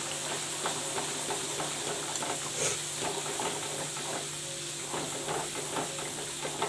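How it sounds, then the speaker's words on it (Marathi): Katachi amti curry being stirred and mixed in a pan, with a steady sizzling hiss and soft, repeated scraping strokes running throughout, close and continuous with no talk. "कटाची आमटी बनवणार आहे मी इथे मिक्स करून घ्यायचं आहे"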